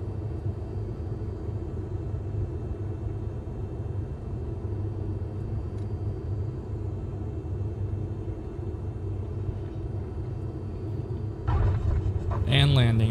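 A small aircraft finishes an ILS approach: a steady cabin engine drone runs throughout, then a louder touchdown rumble and rattle comes near the end.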